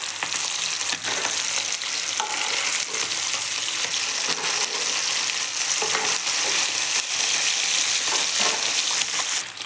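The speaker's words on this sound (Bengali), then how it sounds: "তেল গরম হয়ে গেছে, এখন আমি মাছগুলো ভেজে নেব।" Tangra fish frying in hot oil for a paturi dish, giving a steady, close, loud sizzle with crackling pops throughout, and no talking.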